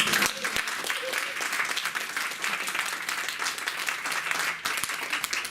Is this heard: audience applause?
yes